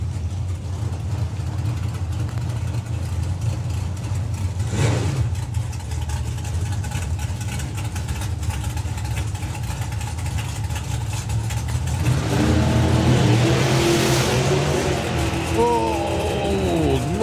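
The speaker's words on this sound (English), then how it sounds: "Normally leaves with the wheels in the air, which you don't often see with the Dragster, hence the big wheelie bar on the back." Engine sound at a drag racing strip during the FIA/FIM European Finals, a continuous roaring drone with a rising, sweeping surge late on as a dragster launches, loud and mixed with distant commentary and crowd noise.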